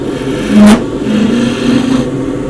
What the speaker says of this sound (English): So quick trip to the grinder.